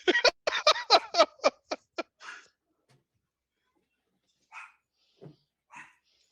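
A dog barks in a quick, loud burst of about eight close barks inside a home, trailing off into a few fainter yips and scattered sounds after a pause.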